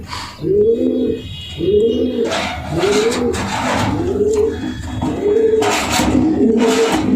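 Racer pigeons coo nearby in a series of about six low, rolling, throaty calls in a steady rhythm, with faint rustling and flutter between them and no speech.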